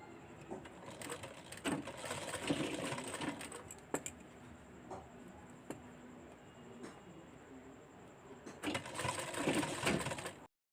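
A sewing machine stitches a gathered round fabric disc onto a bolster pillow cover, running in rapid bursts with brief pauses and mechanical clicks between, fairly close and without talk.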